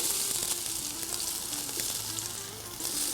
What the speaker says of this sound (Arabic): هنجيب شوية من الزيت وهبدأ أحط البصل حقي